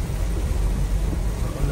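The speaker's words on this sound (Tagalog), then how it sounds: "oh grabe ang ulan" Heavy rain pours down in a dense, steady hiss with a low rumble of thunder underneath, loud and continuous without any voices.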